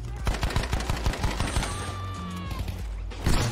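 A rapid burst of automatic gunfire in a shooter game, the shots cracking out in quick succession near and loud before tailing into other battle noise.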